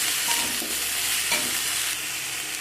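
Drumstick flowers and poppy seed paste being stirred together in a hot pan, with a steady broadband frying sizzle and a few scraping strokes of the spatula, close and moderately loud, with no voices.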